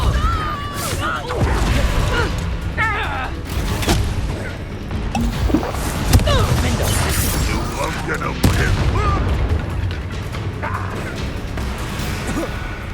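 Dense spell-combat clamour from Hogwarts Legacy: repeated whooshing casts, crashes and booming impacts layered over music and voices, loud and continuous throughout.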